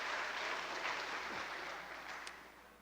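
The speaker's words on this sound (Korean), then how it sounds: "이때 박수 나와야 될 텐데" A church congregation at a Sunday service claps briefly, a soft, distant patter of many hands that tapers slightly over a couple of seconds.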